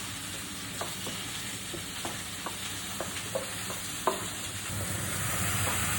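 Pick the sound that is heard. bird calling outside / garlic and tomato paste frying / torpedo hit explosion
garlic and tomato paste frying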